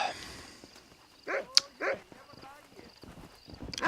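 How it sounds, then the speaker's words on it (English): A dog in the Western video game Red Dead Redemption barks a few times, short separate yelps close by over quiet ambience, with someone speaking briefly. "Hello, doggy."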